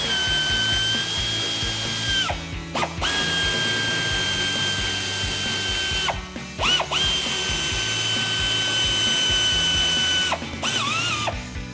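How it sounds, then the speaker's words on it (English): A hand ratchet with an 8mm socket loosens bolts in the plastic wheel well liner of a 2019-2024 RAM 1500, giving long runs of rapid, loud clicking broken by brief pauses. "we're gonna grab the ratchet 8mm socket. There's 5 bolts we're going to remove in the wheel well right here."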